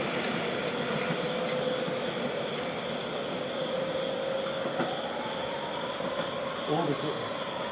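A diesel train passes through Scarborough station at night with a steady rumble and rolling wheel noise, a faint wheel squeal rising over it, and brief speech near the end.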